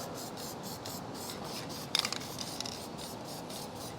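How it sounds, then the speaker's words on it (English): Black spray paint hisses from an aerosol can onto a car body part in rapid, evenly spaced short bursts, with a slightly louder rattling patch midway; close and clear, no talking. "On the back, we'll put some black spray paint just to make it all one color."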